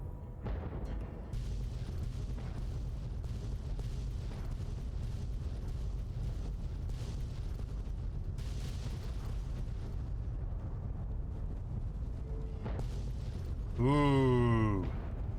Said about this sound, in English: And Raven Rock explodes.